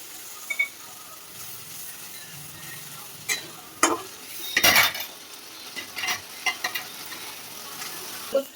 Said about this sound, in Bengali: এবার মশলাটাকে আমি ভালো করে কষিয়ে নেব।